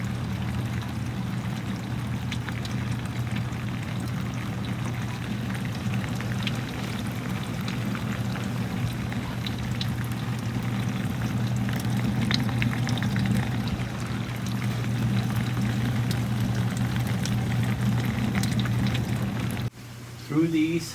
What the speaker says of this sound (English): Now the water's coming down.